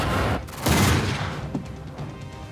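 A volley of blank rounds fired from rifles loaded with training cartridges, heard as a loud burst of overlapping reports followed by a few scattered, fainter shots and rumbling echo.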